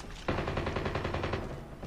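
Gunfire in the mobile game Call of Duty Mobile, a sudden burst of rapid automatic shots that starts sharply and rattles on continuously, loud and dense, with no talking over it.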